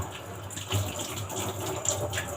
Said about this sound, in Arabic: عايزه اغسل بس ايدي كده.